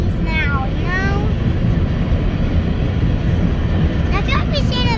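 A BNSF freight train rolls past at Palmer Lake, Colorado, with a loud, steady low rumble of wheels and cars filling the whole stretch, while people talk over it at the start and near the end.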